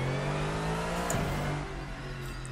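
A Lexus GT3 race car in a racing simulator holds a steady, moderately quiet engine drone with a brief dip and rise in pitch midway, like a shift or throttle change, and no talking.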